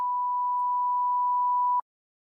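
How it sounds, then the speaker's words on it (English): A steady electronic beep holds one pure tone for nearly two seconds and then cuts off abruptly. The tone is clear, constant and loud against silence, with no voices. "can you hear a beeping sound?"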